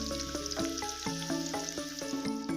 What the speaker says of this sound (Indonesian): digoreng dulu kentangnya